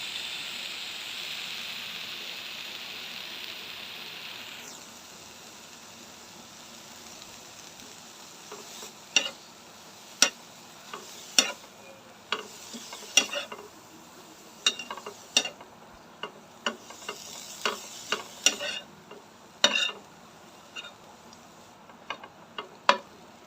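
Dried kachki fish chorchori frying in a pan, a soft sizzle at first, then a long run of sharp scraping and clacking strokes from a spatula stirring against the pan, close and without talk.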